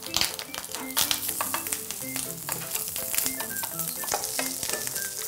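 Store-bought beef bulgogi fries in a little cooking oil with a busy, crackling sizzle, punctuated by stirring clatter and soft tonal sounds in the background.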